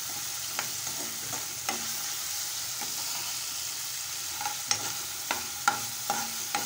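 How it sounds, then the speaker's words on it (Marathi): A masala mixture with salt and ginger garlic paste is stirred in a hot oiled pan, a low sizzle running underneath while a spoon scrapes and taps the pan in irregular clicks, louder toward the end. "मिश्रण छान एकजीव करून घेऊया आपण"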